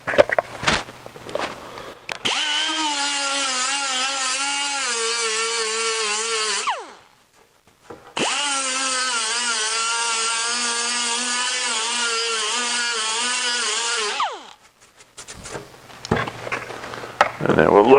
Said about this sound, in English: We'll grind it a little more.